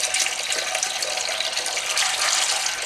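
Water runs from a tap into a kitchen sink holding homemade grapefruit-scented washing up liquid, a steady close splashing rush with no voices.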